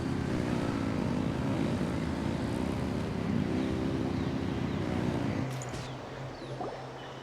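Engines rev in the video game Genshin Impact with a loud, steady, propeller-like drone that fades and drops lower near the end.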